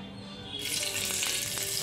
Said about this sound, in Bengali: তো তেলটা গরম হয়ে গেলে এখানে ফোড়ন দিয়ে দিচ্ছি, একটু শুকনো লঙ্কা আর একটু দিয়ে দিচ্ছি